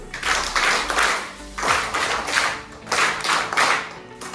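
Third-grade schoolchildren in a classroom clap for themselves in three loud, close bursts of many hands, each swell of applause separated by brief pauses.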